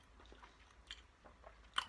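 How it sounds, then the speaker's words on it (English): Someone bites into and chews a dense thinkThin birthday cake flavored protein cake, giving soft, faint crunchy bites and moist mastication close to the mic, with a sharper crunch near the end and no talking. "Definitely nice to chew."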